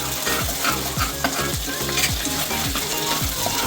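Masala paste for dal makhani fries in a pan while it is stirred, with close, lively sizzling and regular scraping strokes and no voices.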